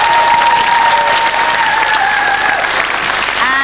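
A studio audience at a game show gives loud, sustained applause for a contestant, a dense, even roar of clapping lasting several seconds while a voice speaks over it.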